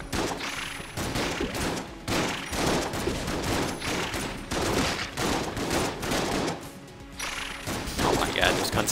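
Gunfire from a weapon in the bullet-hell game Enter the Gungeon, rapid loud volleys of shots and crashing impacts in bursts separated by brief gaps, close and dominant throughout.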